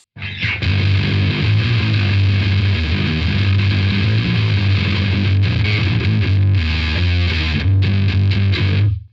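Electric guitar driven through a Daphon Heavy Metal E20MT distortion pedal, playing a thick, heavily saturated, bass-heavy sustained riff that stays loud and dense throughout with no pauses.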